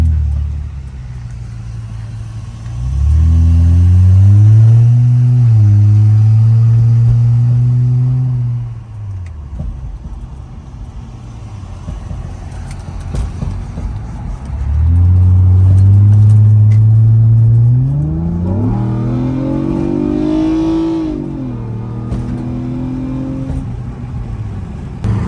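A V6 Charger engine revs up and pulls forward, its tone rising in two long surges with a quieter idle rumble between them, loud and close.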